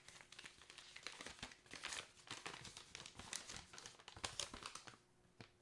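Packing paper crumples and crinkles close by during an unboxing, a continuous run of crisp rustling bursts that tapers off near the end.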